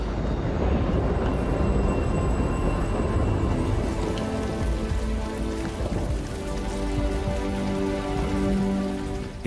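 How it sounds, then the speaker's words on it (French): Steady rain falls in Kenya, a dense continuous patter of drops hitting surfaces, loud and close throughout with no voices. "Jusqu'au moment où la pluie s'est enfin mise à tomber."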